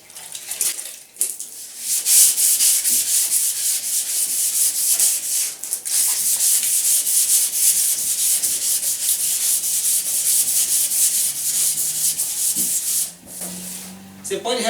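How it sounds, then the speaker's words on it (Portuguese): Dry sanding by hand on a Hilux body panel with P320 sandpaper, a continuous close scratchy rasp in long steady strokes with a couple of brief pauses, nearly alone. "Então eu prefiro trabalhar com a lixa de lixamento a seco, que é a lixa P. Essa aqui é P320"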